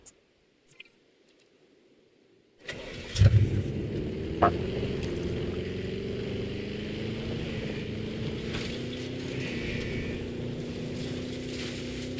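A vehicle engine in the game Jurassic World Evolution 2 starts after near silence with a few clicks, then settles into a steady, droning hum that rises slightly in pitch as it drives on.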